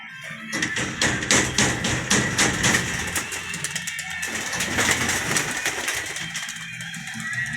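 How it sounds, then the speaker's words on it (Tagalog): Pigeons flap their wings in quick bursts of soft thumping beats, loud and close, with pauses between flurries and occasional cooing in the background. "So yan mga kalapatids, bali malalakas naman ang pakpak nila."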